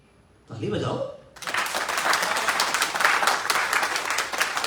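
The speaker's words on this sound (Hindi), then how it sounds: "ताली बजाओ।" Audience in a business development training hall bursts into sustained clapping and applause, loud and steady for several seconds after a brief spoken line at the start.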